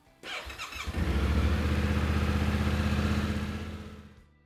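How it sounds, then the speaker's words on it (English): A Yamaha Ténéré 700 motorcycle engine cranks briefly with a whirring starter, catches, and settles into a steady, close, loud idle with a rapid even pulse, fading slightly near the end. "we need to let the bike idle for a few minutes in a well-ventilated area"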